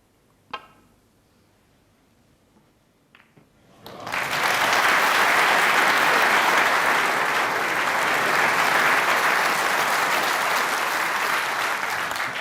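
Crowd at the Crucible applauding during a World Championship snooker semi-final, a couple of soft knocks and then loud, sustained applause that starts suddenly and carries on evenly to the end.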